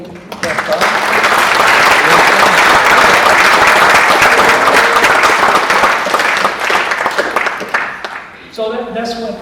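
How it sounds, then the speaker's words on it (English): An audience at a distinguished speaker event breaks into loud, sustained applause that swells quickly and holds for several seconds, then tapers off as a voice returns near the end. "Can we applaud the people that paid that price?"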